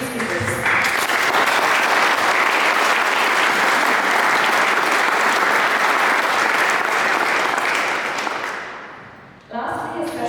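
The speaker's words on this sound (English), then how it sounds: "please, one more round of applause to our tonight's distinguished speakers" Sustained applause from a large audience at an evening anniversary event, a steady dense wash of clapping for about eight seconds that fades out before a brief pickup of sound at the end.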